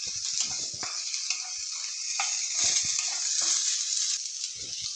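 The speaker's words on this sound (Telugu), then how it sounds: "పచ్చిమిర్చి వేసుకోవాలి ఉల్లిపాయ ముక్కలు వేసుకోవాలి కొద్దిగా లైట్గా వేపుకోవాలి" Green chillies and onion pieces frying lightly in a little oil, giving a steady close hiss with occasional soft stirring knocks, continuous throughout.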